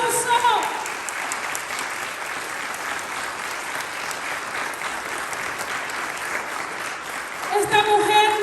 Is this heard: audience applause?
yes